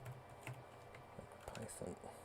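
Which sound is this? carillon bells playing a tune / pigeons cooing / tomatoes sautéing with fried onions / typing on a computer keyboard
typing on a computer keyboard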